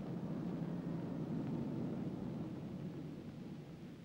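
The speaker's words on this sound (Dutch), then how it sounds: "Deze landing maakt u mee vanuit een Sikorsky" A Sikorsky HSS-1N helicopter lands on the aircraft carrier Hr.Ms. Karel Doorman, heard from inside the cabin as a loud, steady low rotor and engine roar that eases slightly toward the end.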